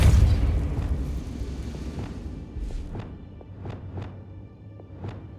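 Spell explosions from Confringo and Depulso in the Hogwarts Legacy video game: a heavy, loud boom opens, its rumble slowly fading, followed by several sharper, fainter bursts spaced about a second apart.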